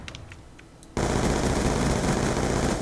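Dense, continuous automatic gunfire from the Black Ops 2 shooter game erupts suddenly after a near-silent second with a few faint clicks, then holds loud and sustained to the end.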